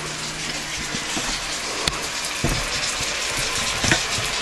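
A steady, dense sizzle of steak frying in a hot pan, with occasional pops and crackles breaking through the continuous hiss.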